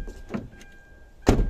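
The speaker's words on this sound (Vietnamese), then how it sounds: "các bác nghe tiếng đóng cửa đấy ạ" A car door on a Hyundai Santa Fe SLX seven-seater shuts with a single loud, close, solid thump near the end, after a quiet stretch with faint clicks.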